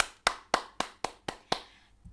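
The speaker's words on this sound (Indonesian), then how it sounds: "yuk kasih tepuk tangan yang meriah buat Tuhan Yesus ya teman-teman" Six sharp, evenly spaced claps ring out one after another in a quick regular rhythm, close and clear, from a congregation clapping during an online worship service.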